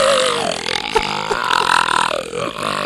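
A voice imitates a long, gurgling belch rolling into retching vomit sounds, loud and close, one continuous performance lasting a few seconds.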